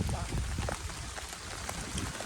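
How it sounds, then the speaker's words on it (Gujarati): Rain falling steadily over a farm during the monsoon, a continuous soft hiss of drops across open ground with a few louder patters, heard close and without talk. "હા વરસાદનું આગમન થઈ ગયો"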